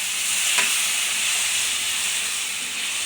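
Tamarind water poured into brinjal frying in a pan for thokku, giving a loud steady sizzle and steamy hiss throughout with a brief sharper burst near the start.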